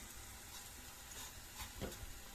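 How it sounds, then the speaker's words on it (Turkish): Sausages and tomato paste frying together in a pan over low heat give a steady soft sizzle with a few brief louder crackles, heard alone at close range. "Sosislerim ve salçam kısık ateşte kavrulurken"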